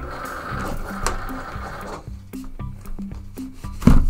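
A Cricut cutting machine pulls in its mat, giving a mechanical whir followed by a series of short motorized stepping pulses and clicks, with a sharper click at the end.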